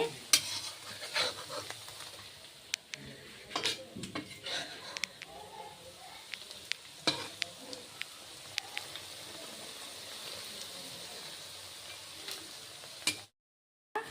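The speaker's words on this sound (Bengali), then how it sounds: "এখন অল্প টাইম ভেজে নিই, দিই।" Shefali flower fritters fry in hot oil with a steady soft sizzle, punctuated by scattered clinks and scrapes of a utensil moving them, and a voice occasionally talking nearby.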